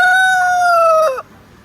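A rooster on a farm lets out one loud, close crow that holds a steady tone and then breaks off sharply, leaving near silence.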